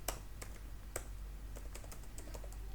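Code being typed on a computer keyboard, with sharp, irregular key clicks in quick bursts and short pauses, close and fairly quiet against a steady low background hum.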